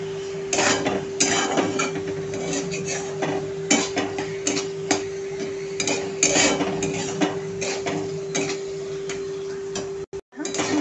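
A spatula scrapes and knocks repeatedly in a kadhai while tomato thecha with coriander is stirred, an irregular series of close metallic clinks and scrapes over a steady hum.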